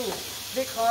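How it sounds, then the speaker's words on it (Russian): A brief, soft hiss of hot oil sizzling as chicken fries in a Thai cooking class in Chiang Mai. "Добавляете курицу аккуратно и осторожно, и не кидайте сверху, чтобы не обжечь кипящим маслом себя и других"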